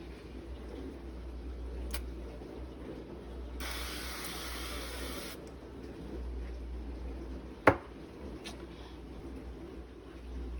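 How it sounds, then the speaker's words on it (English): Cooking spray hisses steadily onto a waffle iron for about two seconds, close and fairly quiet, followed by a sharp clack and light handling sounds. "I'm going to spray it with cooking spray"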